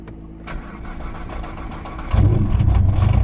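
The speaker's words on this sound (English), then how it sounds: "He's going to show me how to start his car" A tuned Nissan GT-R engine cranks briefly, then fires up into a loud, deep rumbling idle close by.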